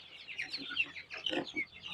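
Chicks on a poultry farm clucking and cheeping close by in a busy, continuous jumble of high calls, with no one talking.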